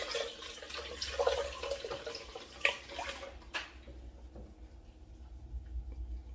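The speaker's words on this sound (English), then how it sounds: "So you're just straining all that off." Garlic cough syrup liquid pours through a strainer, a soft close trickle with a few drips and light clinks that taper off toward the end, no voices.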